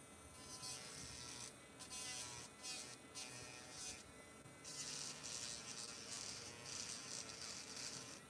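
A small rotary hair-carving tool with a needle tip spins steadily, making a thin high buzzing whine with slight rises and dips in pitch, close and continuous, with no talking.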